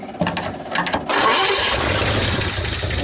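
A 1959 Ford Fairlane 500 Galaxie, started for the first time in over 20 years, cranks briefly in stuttering bursts, then catches and settles into a loud, steady idle through an exhaust pipe with holes in it.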